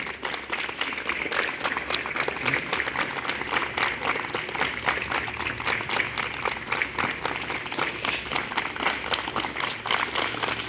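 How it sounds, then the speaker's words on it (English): Students at a school assembly clap together in a steady rhythm during a drill. The dense, continuous clapping runs throughout and sounds fairly distant and roomy. "Clap together"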